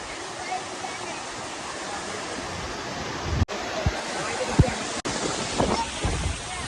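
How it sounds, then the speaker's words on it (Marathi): Rushing water at a large village waterfall, a steady broadband roar close by that continues throughout, with a few brief bumps and handling knocks over it. "तर काय आम्ही वॉटरफॉल पशी पोहोचलेलो आहे"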